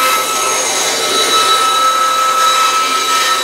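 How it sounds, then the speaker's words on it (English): A bandsaw cuts through a rough hunk of maple for a Stratocaster guitar top, a steady, loud whining buzz with a faint high tone running evenly and alone throughout. "let's go over to the bandsaw and trim this guy out"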